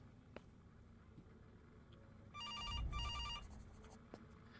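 A phone rings in the psychological thriller game Pieces of Me, one electronic ring lasting about a second and repeated once, moderately loud over a quiet background of faint footsteps.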